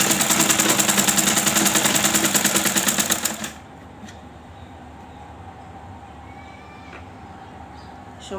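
A sewing machine stitches fabric in a fast, loud, rhythmic run for about three seconds, then stops, leaving a quiet room.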